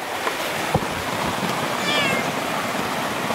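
A single faint meow rises briefly out of steady wind and wave-like noise, somewhat distant.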